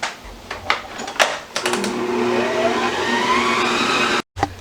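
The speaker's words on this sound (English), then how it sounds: "Now, I'm going to add a half a teaspoon of vanilla. We're just going to mix that again." Electric mixer whirs steadily through a bowl of Oreo ball mixture after vanilla is added, preceded by a few clicks and knocks, with the motor pitch slowly rising before it cuts off sharply.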